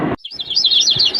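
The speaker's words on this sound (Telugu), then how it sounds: "అడవిలో పక్షుల కిలకిలలు, గాలి మృదువుగా వీస్తుంది." A forest bird sound effect for a children's story: a quick warbling run of bright, high chirps rising and falling, close and clear after a brief muffled sound at the start.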